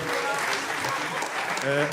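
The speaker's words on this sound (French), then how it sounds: "une bonne main d'applaudissement, tout le monde" Gong Show audience gives a brief round of applause during a mentalist's hypnosis act, a dense, steady clapping wash with faint voices mixed in.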